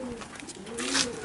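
A racing pigeon coos softly nearby, a low throaty warble rising and falling over a faint background hiss, in a pigeon loft.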